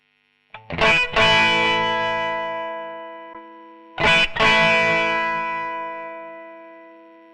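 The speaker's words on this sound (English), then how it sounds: "you can see how that tape echo really softened things up" Two strummed electric guitar chords, a few seconds apart, played through a Zoom MS-50G edge-of-breakup patch with tape echo. Each chord rings out loudly with mild grit and decays slowly and smoothly into a soft tail.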